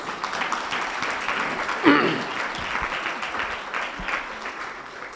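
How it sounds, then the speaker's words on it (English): Audience applause for a session moderator at a symposium on audio description in Africa, sustained even clapping at moderate level with a brief louder burst partway through. "Big round of applause for Lydia."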